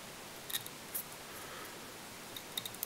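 Small scissors trim material while a fly is tied, giving a few faint, crisp snips spaced apart over a steady low room hiss, with no talk.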